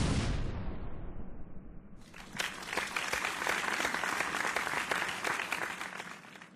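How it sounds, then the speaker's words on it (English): An explosion of sodium hydroxide in the game Grounded: a sharp, loud blast at the start that decays over about two seconds, followed by a dense, crackling roar like fire or debris that carries on to the end. "I finally made sodium hydroxide explode."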